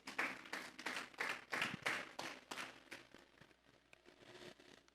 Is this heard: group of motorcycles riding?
no